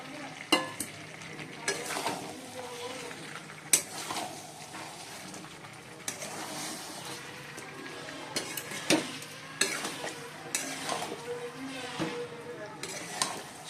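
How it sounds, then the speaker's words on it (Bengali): Potatoes added to chicken curry sizzle and fry in a pan while being stirred, with steady crackling and intermittent scraping strokes of a utensil close by over about fourteen seconds. "চিকেন কষা হয়ে গেছে, এবার আলুগুলো দিয়ে দিচ্ছি।"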